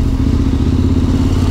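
A KTM motorcycle engine drones steadily while riding, loud and close, with a continuous low rumble and some clatter and wind noise.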